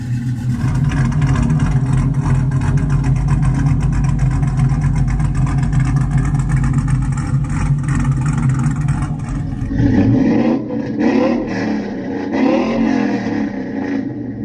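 An LS V8 in a Chevrolet Silverado pickup, fitted with a CTS-V X pipe and long tube headers, rumbles loudly and steadily at close range, then shifts to a rougher, throatier blip of revs near the end.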